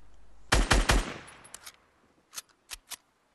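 Gunfire in the video game Fortnite as a player shoots at a base: a quick burst of three loud close shots, then trailing echoes and a few scattered later shots, with no talk.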